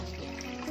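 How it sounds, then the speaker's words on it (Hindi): Water pours into a steam pot in a kitchen, a steady, close splashing stream that runs without a break. "इसमें डालेंगे हम पानी।"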